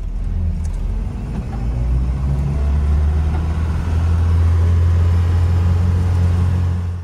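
Land Rover Series III in low range four-wheel drive pulls away in gear with a deep, steady engine rumble and drivetrain drone, loud and close throughout, with no talking.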